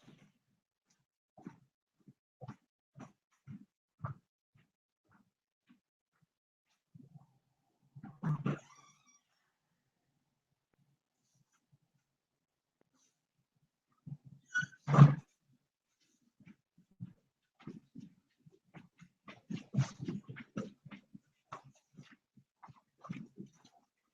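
A pet dog outdoors gives scattered, sparse barks and growly vocalizations, mostly faint and spread apart, with one louder bark in the middle and a livelier cluster near the end.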